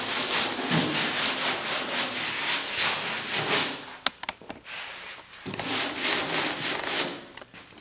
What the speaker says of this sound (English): basically you're putting your anchor pattern in with your sandpaper more than doing a lot of shaping at this point in time